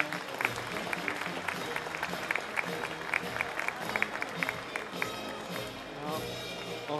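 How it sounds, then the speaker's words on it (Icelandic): Applause from an audience at a youth equestrian show, a dense patter of many hands clapping continuously at steady volume, with crowd noise and murmuring mixed in throughout. "við skulum gefa þeim gott klapp."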